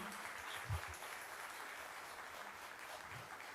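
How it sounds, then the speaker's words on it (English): Faint, distant audience applause in a university lecture hall for a student named Tania, a low steady patter of clapping with no voices over it. "A big round of applause for Tania."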